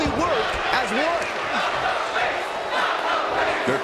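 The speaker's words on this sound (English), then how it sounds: "The crowd is fired up." A roaring arena crowd from the WWE 2K24 wrestling video game during a tag team match, loud and continuous, with rising chants and cheers throughout and no talk over it.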